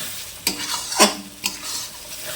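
Spice masala frying in oil for a Bengali chicken and potato curry, stirred three times in a pan, each scrape a sharp burst over a steady close sizzle.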